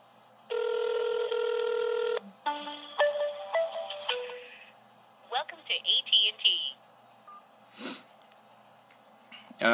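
A call placed from a Galaxy Gear S smartwatch: a steady electronic ring tone sounds first, then a series of beeps and tones follow, with bursts of tonal chirps and brief noises over quiet background.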